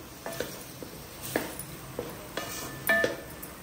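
Boiled butter beans being stirred into a coconut gravy in a cooking pot, heard as a series of sharp spoon clinks and scrapes against the pan at an uneven pace over a soft simmer, with no voices.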